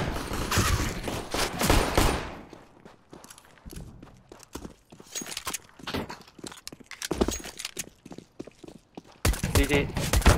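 Gunfire in Counter-Strike: Global Offensive during a competitive match: scattered sharp bursts of shots and clattering in-game sounds with mixed loud and quieter stretches, alongside players talking.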